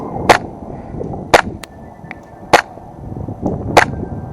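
A Tokyo Marui 4.3 Tactical Custom Hi-Capa airsoft pistol fires BBs outdoors: four sharp, close cracks spaced about a second apart, with fainter clicks in between and wind noise underneath.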